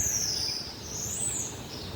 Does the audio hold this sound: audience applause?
no